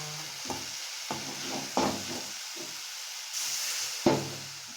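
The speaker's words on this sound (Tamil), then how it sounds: "எல்லாம் போட்டு கொஞ்சம் நேரம் வதக்கிட்டு" Chili powder and spices sautéing in a pan for goat head curry, with faint sizzling and several soft, separate stirring scrapes against a quiet background.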